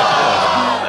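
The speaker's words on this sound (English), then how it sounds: "yes, the crowd is fired up, so you know what comes next" The arena crowd in Kingdom Hearts 2 cheers in a brief, loud, dense roar that fades slightly at the end.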